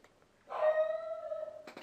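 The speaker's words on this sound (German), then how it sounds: "Das war der Hund." A dog lets out a single drawn-out howl, a sustained wavering tone of about a second, fairly faint and somewhat distant, with brief yips at the end.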